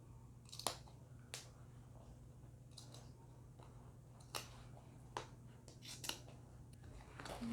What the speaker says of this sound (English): I'm going to take my scissors and cut all the way to the point of my arrow right here.